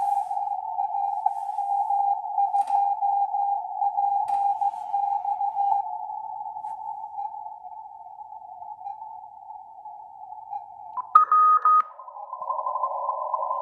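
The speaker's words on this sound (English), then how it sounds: "That's the actual beacon. I memorize the sequence of beeps." A steady continuous radio beacon tone, heard on an Icom receiver, drones for about eleven seconds, then shifts into brief higher warbling code beeps and a slightly different pitch.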